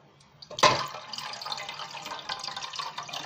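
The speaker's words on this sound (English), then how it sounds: "now I'll be taking a little water, a little quantity of water." A little water is poured from a tap or jug into an empty cooking pot, beginning with a sharp splash and then settling into a steady, close trickle.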